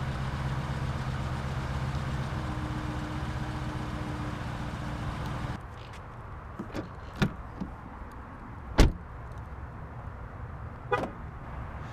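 A steady 2018 Dodge Durango SRT 392 engine idle cuts off, followed by a few sharp clicks and a solid thunk as the car door unlatches and swings open nearby.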